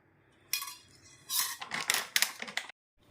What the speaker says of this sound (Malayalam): ഉപ്പിനകത്തേക്ക് അരിഞ്ഞ പാവയ്ക്ക ഉപ്പൊരു പാത്രത്തിലിട്ട് ഇങ്ങനെ കനം കുറച്ച് അരിഞ്ഞ പാവയ്ക്ക അതിനകത്ത് ഒന്ന് മിക്സ് ചെയ്യുന്നു